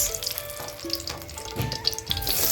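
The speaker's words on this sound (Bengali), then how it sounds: "এখন পুরনোর জন্য দিয়ে দিব সর্ষের তেল তেজপাতা পেঁয়াজ" Bay leaf and onion fry in hot mustard oil, a continuous close sizzle with faint clinks and tonal kitchen noise mixed in, without talk.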